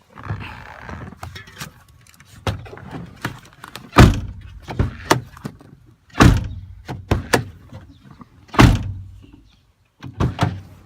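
A 1999–2004 Honda Odyssey door is repeatedly latched and shut, giving a series of sharp, close thunks and clicks of the door and its lock mechanism with quieter handling noises between them.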